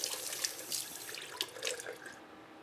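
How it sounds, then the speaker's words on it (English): Cold tap water runs steadily over hands being washed at a sink, a continuous splashing stream with small bursts as the hands move, close and fairly quiet, with no talking. "Now I'm going to wash them in cold water alone."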